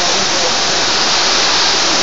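Ice rain pouring down in Abha, Saudi Arabia, a dense steady hiss of falling pellets spread evenly across the whole stretch, loud and close with no pause.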